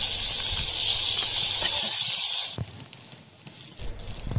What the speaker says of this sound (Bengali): তো ফিশ ফ্রাই করা প্রায় শেষের পথে।